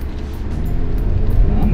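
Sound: Hyundai Santa Fe SUV braking hard in a braking test

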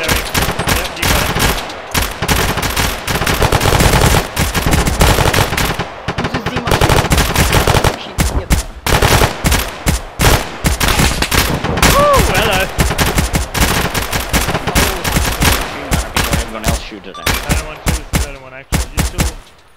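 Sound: light machine gun fire in a video game

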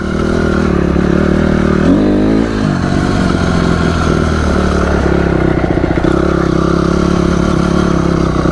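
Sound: motorcycle accelerating during wheelie attempt

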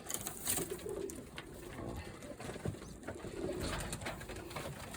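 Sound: pigeons cooing

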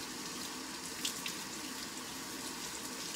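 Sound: water running from a tap while rinsing clothes

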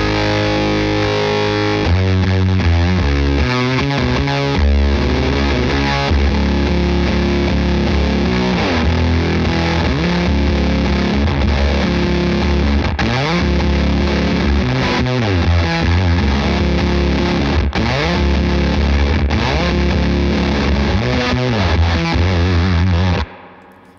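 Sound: Les Paul electric guitar through Keeley Fuzz Bender fuzz pedal

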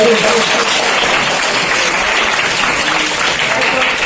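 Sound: applause welcoming children at a school event

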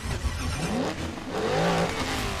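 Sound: Rimac C_Two engine starting up in Asphalt 9 video game

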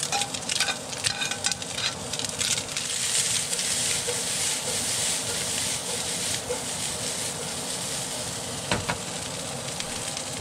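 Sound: onion added to cooking rice, sizzling and stirring

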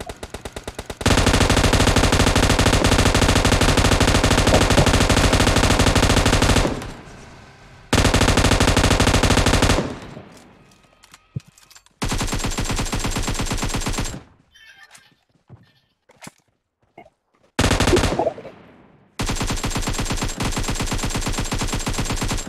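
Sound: video game gunfire

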